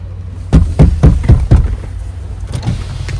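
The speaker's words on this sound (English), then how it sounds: "You don't gotta knock so loud" Loud knocks on a car window during a traffic stop, two quick bursts of sharp hard raps close up, the first burst of about five knocks and a shorter second burst after a pause.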